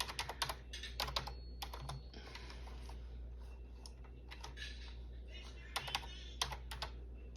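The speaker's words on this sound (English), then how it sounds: "I cannot even type today. It's these nails" Someone with long nails types on a computer keyboard in irregular flurries of crisp clicks, close and fairly loud, with quieter gaps over a steady low background hum.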